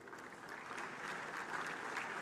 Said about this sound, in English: Please welcome him warmly with a round of applause.